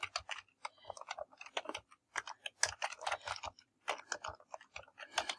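Quiet, irregular clicks of fingers typing on a computer keyboard, with short bursts of keystrokes and brief pauses, heard close and alone.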